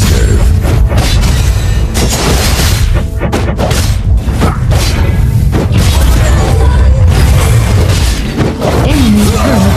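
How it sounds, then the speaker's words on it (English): Loud, dense crashes and booms of a turret being destroyed in the mobile game League of Legends: Wild Rift, a ranked Draven match, with heavy impacts layered over continuous battle noise. "Enemy turret destroyed."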